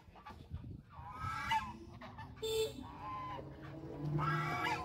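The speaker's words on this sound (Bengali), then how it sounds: "রাজহাঁস" A group of geese outdoors by a large pond in Noakhali gives several nasal honks and calls spread across the moment, fairly faint and distant, with no one speaking.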